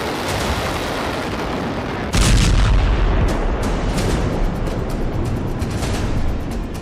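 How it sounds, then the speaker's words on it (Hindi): Bomb blasts and artillery fire shake Beirut in a sustained, loud roar of dense rumbling detonations, with a heavier burst about two seconds in followed by continued crackling booms. "जबरदस्त बम धमाके से पूरा बेरूत शहर बारूद की आग में भस्म हो रहा है।"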